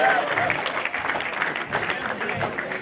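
A church congregation applauds for the Lord, with dense, continuous clapping that swells and dips and a few voices calling out under it.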